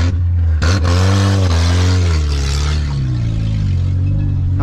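A Fiat Palio with a jammed clutch and broken gearbox driven on the road, a loud strained engine drone that rises and then sags in pitch, with grinding mechanical clatter underneath, close and continuous, no talking.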